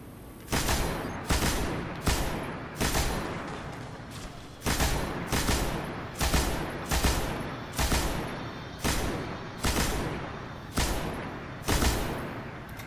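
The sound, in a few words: enemy firing missiles in the video game Destiny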